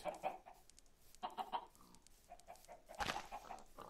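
Minecraft chickens cluck in short, scattered bursts, fairly close, with pauses between groups of clucks and no talking.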